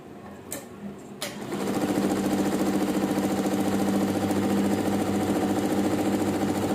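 An embroidery machine clicks twice as it is set, then starts up and settles into a steady, loud, fast mechanical stitching rhythm that runs on without pause.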